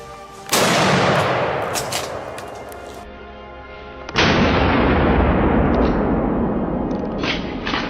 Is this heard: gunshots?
yes